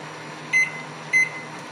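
A microwave oven hums steadily, with two short beeps spaced about half a second apart over the low running drone.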